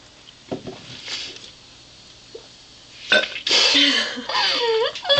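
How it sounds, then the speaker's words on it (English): Loud close burps after drinking fizzy green apple candy soda: a couple of short quiet belches first, then a long drawn-out rumbling burp that rises and wavers, with light clinks and shuffles around it. "it is so fizzy and bubbly that we have to burp all the time"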